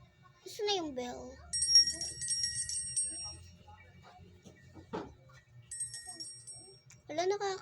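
A bell rings in short bursts, a bright sustained tone struck twice with a pause between, heard indoors among a child's chatter and other talk.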